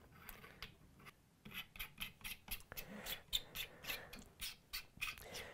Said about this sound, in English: unscrew the bottom here and take the extension battery tube and screw that in